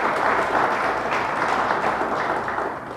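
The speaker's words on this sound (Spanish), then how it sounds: "Dele fuerte ese aplauso a Dios." A church congregation applauds, a thick continuous clapping from a large room that stays loud and even before fading slightly at the end.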